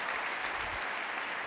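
Applause from a live keynote audience cheering Airbnb Superhosts, a steady, dense wash of many hands clapping at moderate distance, sustained and even with no talk over it.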